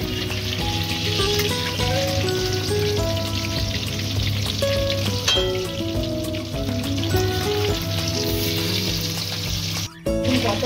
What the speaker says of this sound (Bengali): কত সুন্দর করে ভেজেছি, ধীরে ধীরে ভাজতে হবে।